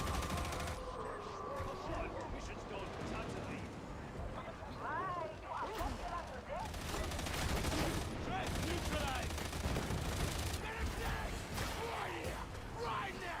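A gun barrage holding back hordes of enemies in a video game, a continuous dense roar of rapid gunfire with explosive bursts, loud and sustained throughout, mixed with game effects and voices talking over it.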